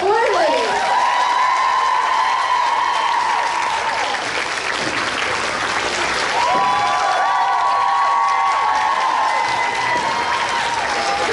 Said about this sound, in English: a big round of applause for Bob Morley